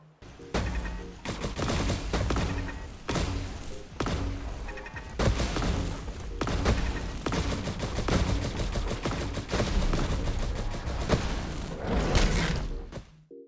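Zap Gun turrets from a Fallout 4 laser mod firing in long, loud, rapid bursts of zapping shots with brief pauses between volleys.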